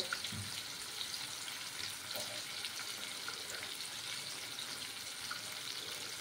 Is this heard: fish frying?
yes